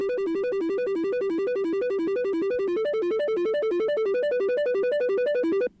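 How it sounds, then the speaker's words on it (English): A bright sine-based synth lead with a noise attack plays a fast, steady arpeggio pattern of repeating notes at constant loudness, then cuts off abruptly. "So I added this sine noise attack lead."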